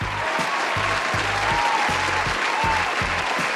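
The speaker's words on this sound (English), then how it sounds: "That deserves a lot of applause, honestly." Steady applause from a crowd, a dense wash of clapping that holds at an even level throughout, with a rhythmic low thumping underneath.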